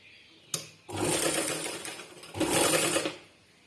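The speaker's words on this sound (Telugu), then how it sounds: "ఇంకోటి ఇప్పుడు ఇలా దీనిపైన కుట్టు వేసుకోవాలి" A sewing machine stitching a sleeve hem on a dress runs in two loud, steady bursts of rapid mechanical clatter, each about a second and a half long, separated by a short pause and preceded by a single click.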